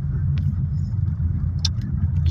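Morning road traffic on the Katipunan Avenue flyover heading northbound, a continuous low rumble of passing cars with faint higher noises from vehicles nearby.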